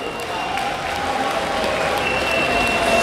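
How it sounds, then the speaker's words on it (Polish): Applause from a crowd at an outdoor concert event during the Czarnków Land Days, a steady wash of clapping that runs evenly throughout, with a faint tonal hum from a sound system beneath it. "Brawa"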